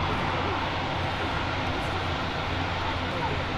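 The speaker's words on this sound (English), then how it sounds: "The aircraft taxiing out." Steady, loud roar of a Singapore Airlines A350 jet taxiing at Manchester Airport, a constant broadband rumble and hiss with no break, heard from nearby.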